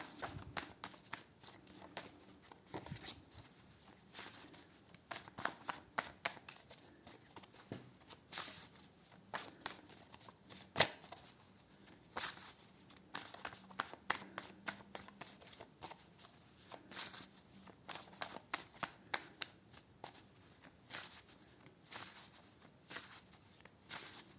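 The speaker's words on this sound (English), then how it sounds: "I'm gonna pull some health and lifestyle cards for you here as well." Health and lifestyle tarot cards shuffled and pulled by hand, a continuous patter of quick riffling flicks and soft slaps up close, with no talking.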